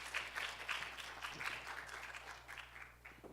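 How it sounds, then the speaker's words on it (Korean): Applause from an audience welcoming the final policy presentation team at a horse industry idea contest, a soft, diffuse wash of clapping heard at a distance over a low steady hum. "뜨거운 박수로 환영해 주시기 바랍니다"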